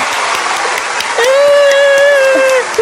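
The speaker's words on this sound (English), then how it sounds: "I love the applause." Lively applause and a few cheers from an audience greet guests on a podcast show, with a voice rising over the dense clapping midway.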